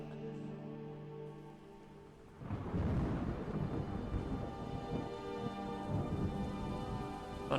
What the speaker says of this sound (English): Thunderstorm. I mean, we actually already have weather sounds,